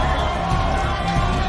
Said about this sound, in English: Sentinels fans starting to make a little bit more noise as well